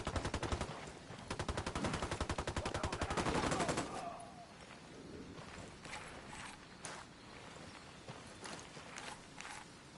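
Gunfire in the Ghost Recon Wildlands video game: a rapid, loud automatic burst of machine-gun fire for about four seconds, then scattered fainter shots and distant reports.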